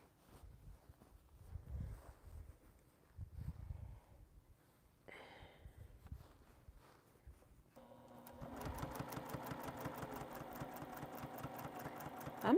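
A sewing machine stitches down quilt binding, running steadily and fairly loud for the last several seconds after quieter handling noises and shuffling at the start.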